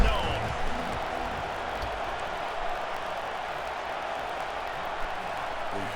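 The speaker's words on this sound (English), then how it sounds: "This crowd ready to make its presence known." A steady stadium crowd roar from an NCAA football video game fills the scene at an even level throughout, with a faint whistle-like tone near the start.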